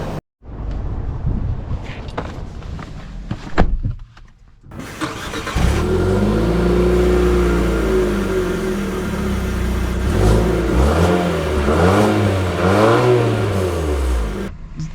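A 2025 Infiniti QX55 with all-wheel drive and a CVT starts up and accelerates hard, its engine note rising and falling in repeated sweeping surges, loud and close from inside the cabin, after a few seconds of quiet handling noises.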